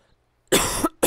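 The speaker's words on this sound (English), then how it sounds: "Why do I have a cough in my throat?" A single harsh cough bursts out nearby, followed by a short second cough after a brief gap, in an otherwise quiet room.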